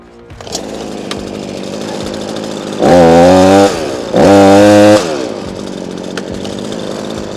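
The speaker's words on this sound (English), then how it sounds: "And the chainsaw is nice and warmed up now." A warmed-up chainsaw idles with a steady rumble in bitter winter cold, then revs hard twice in quick succession, loud and close, before settling back to idle.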